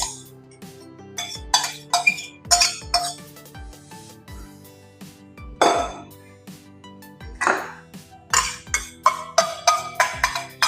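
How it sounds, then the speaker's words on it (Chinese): Seasonings and sauces for a Guangxi kiln chicken marinade are mixed in a bowl, with repeated sharp clinks of a utensil against dishware in an irregular rhythm, close and clear with no talking. "我们把这个调料呢放下去混合"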